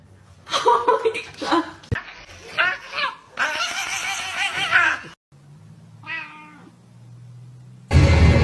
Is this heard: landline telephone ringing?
no